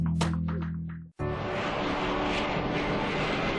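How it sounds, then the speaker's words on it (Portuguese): An Airbus A320 jet airliner at its first public demonstration roars loudly as it passes low, about 100 feet up, after a brief tonal lead-in, with dense, steady engine and air noise. "O Airbus A320 está sendo apresentado ao mundo."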